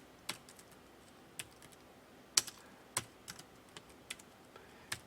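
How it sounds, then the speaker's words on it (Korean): Keystrokes on a computer keyboard while entering text into a PowerPoint WordArt box, heard as sparse, irregular sharp clicks spaced a second or less apart, fairly close and alone with no talking. "그대로 타이핑 쳐주시라."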